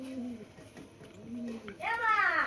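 Pet pigeon being handled, cooing in low soft phrases at close range, with a brighter bird call near the end and some talk around it.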